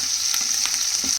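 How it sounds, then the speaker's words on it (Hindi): Onions fry over high heat with a loud, dense, continuous hiss that cuts off abruptly at the end. "ये प्याज अपने, मैं ये मैं तेज आंच पे भून रही हूँ"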